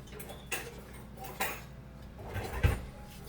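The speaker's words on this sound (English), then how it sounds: "Let me get a wooden spoon." Kitchen utensils clatter and knock together while someone rummages for a wooden spoon, a few sharp clinks spread over a few seconds, close and moderately quiet.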